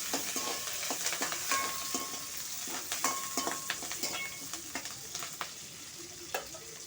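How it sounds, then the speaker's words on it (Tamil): Green chillies and curry leaves fry in a pan for a Tamil fish curry, a steady crackling sizzle punctuated by frequent close stirring taps. "பச்சை மிளகாய் கருவேப்பிலை நல்லா வதக்கணும்"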